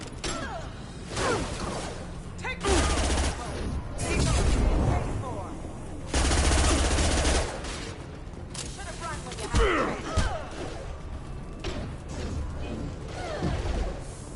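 Rapid gunfire in Mass Effect 2 comes in loud, dense bursts with heavy low thumps, broken by brief lulls, mixed with combat effects and spoken voices.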